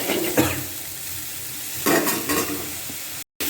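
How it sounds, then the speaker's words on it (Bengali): Spice paste of tomato, chilli, coriander, cumin and turmeric hits hot oil and sizzles steadily, with bursts of louder frying and scraping as it is stirred in the pan, ending in a brief cutoff. "এবার এই গরম তেলের মধ্যে এই মশলাটা দিয়ে দিলাম, কষিয়ে নিতে হবে।"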